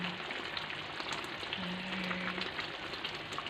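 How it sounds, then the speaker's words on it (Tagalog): Shrimp curry fries in a pan with a steady, close sizzle and a faint stirring scrape, quiet and continuous with no voices. "nagluto kami ng karing hipon"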